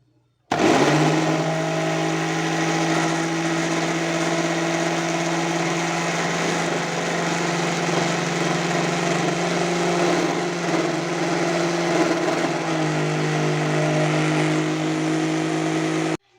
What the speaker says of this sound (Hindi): चलाऊँगी मैं ग्राइंड।